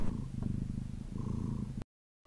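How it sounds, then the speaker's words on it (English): A Siberian Forest cat purrs steadily and close up, a low continuous rumble with a brief pause, before the sound cuts to silence near the end. "featuring our Siberian cats, Kitsune and Maneki."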